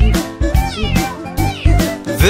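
Loud, bright meowing of a kitten is sung over a bouncy children's song, with each meow rising and falling in time with the music. The voice imitates the cat, and the backing is full and upbeat.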